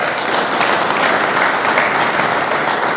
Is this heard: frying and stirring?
no